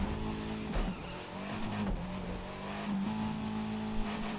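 A Fiat 500 drives in The Crew 2, its engine holding a steady droning tone while tires squeal and skid in short wavering bursts, close and continuous.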